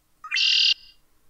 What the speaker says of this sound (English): So there's like a blackbird noise there.